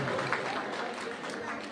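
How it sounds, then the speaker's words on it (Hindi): Studio audience giving a burst of applause on a quiz-style show, brief, fairly soft clapping blended with crowd murmur, steady for under two seconds. "जोरदार तालियां"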